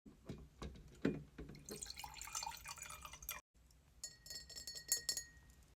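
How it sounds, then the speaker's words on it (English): Distilled water poured into a glass jar, with a few clinks of glass at the start, then a trickling, splashing stream that pauses briefly and resumes, close and fairly quiet, no voices. "Let's fill the jar with distilled water."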